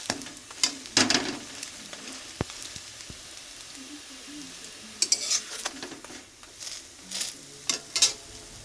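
Patishapta crepes frying in mustard oil give a steady low sizzle, broken by intermittent scraping and clinks of a spatula against the pan, nearby and moderately loud.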